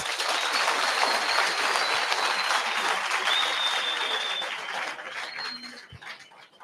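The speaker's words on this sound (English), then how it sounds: "Let's give them a round of applause." Audience applause at a school career-coaching event, dense steady clapping from a crowd that holds for about five seconds before thinning out and fading, with a few faint high tones over it.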